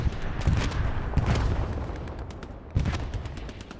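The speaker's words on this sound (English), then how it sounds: "Artillery strike." Artillery strike landing in Hell Let Loose, a World War II shooter set on Juno Beach: heavy booms and crackling blasts roll in repeatedly over a constant rumble of battle, with sharp impacts near the start, middle and end.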